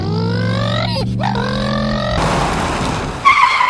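A cartoon motorbike revs with a rising engine whine that drops away, then breaks into a rough skidding rush as it accelerates off, loud and close, with a voice briefly heard near the end.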